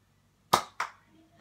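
A toy gun fires three sharp snapping shots, two in quick succession and a third after a pause, close and fairly quiet with no talk.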